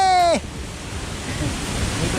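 A waterfall near Neer Gaddu in Rishikesh gives a steady, close, broadband rushing roar that fills the clip after a brief voice at the very start.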